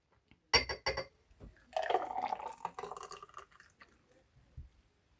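Weight-loss juice is poured into a cup, with a few clinks of glass followed by a short, close trickle and splash of liquid, then quiet.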